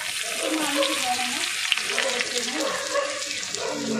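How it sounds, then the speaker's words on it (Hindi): Garlic and ginger frying in a hot pan while making chow mein, a steady close sizzle running through with faint background activity. "और ये गरम हो गया है, हम इसमें डालेंगे लहसुन। इसमें हम डालेंगे पहले लहसुन और डालेंगे हम थोड़े से अदरक।"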